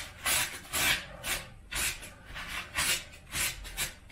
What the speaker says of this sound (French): vous prenez le sopalin et vous essuyez